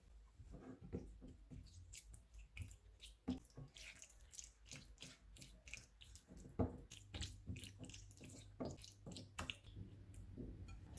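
Chicken is mixed by hand with lemon juice, soy sauce, yogurt and spices. The wet squishing and dripping sounds are soft and close, and they come in irregular bursts against a quiet background.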